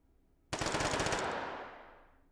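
A toy M16 rifle in the VR game Hot Dogs, Horseshoes & Hand Grenades fires a quick burst of roughly a dozen rapid shots lasting under a second, loud and close, then rings out and fades with no speech.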